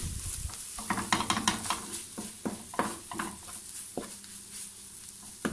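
A tuna and potato mixture is stirred in a pan, with soft close scrapes and clacks of a utensil against the pan over a faint sizzle, coming in irregular bursts.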